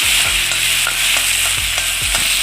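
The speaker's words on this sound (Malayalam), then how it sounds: "കടുക് പൊട്ടി കഴിഞ്ഞ് നമുക്ക് ഉള്ളി ചേർത്ത് കൊടുക്കാം" Small shallots sizzling in hot oil after mustard seeds have popped, a loud continuous frying hiss with repeated stirring scrapes of a spatula against the pan.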